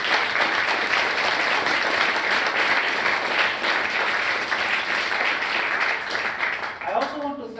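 Audience applause at a capstone engineering symposium, steady dense clapping from a sizable crowd that holds loud and even for several seconds before thinning at the end.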